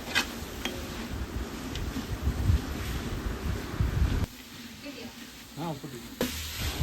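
Onions salted and stirred in a pan sizzle loudly, with rough, windy stirring noise for the first four seconds. The sizzle then drops to a quieter hiss with a brief tonal chirp before the louder frying returns near the end.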